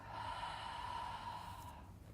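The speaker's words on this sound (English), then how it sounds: "Take 5 breaths here." A single long, deep breath with a breathy rush sustained for about two seconds, close and fairly soft, taken during a seated yoga forward fold stretch, with no talking over it.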